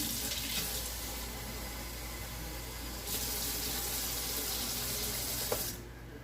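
Warm water runs steadily from a kitchen tap for making pizza dough, a continuous hissing gush that swells slightly midway and cuts off near the end, with no voices.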